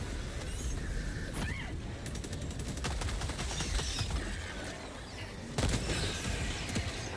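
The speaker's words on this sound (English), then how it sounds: "Calling down a sentry. I'm setting up turrets." A deployed sentry turret in Helldivers 2 fires bursts of rapid automatic gunfire amid mechanical clanking and battle noise, with a sharp, loud cluster of shots near the end.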